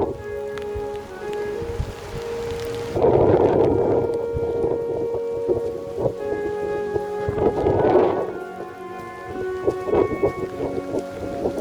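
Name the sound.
rain with thunder while hiking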